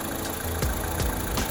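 A 2005 Honda Civic DX engine revs up and down in a few quick surges over a steady idle, heard close and fairly loud.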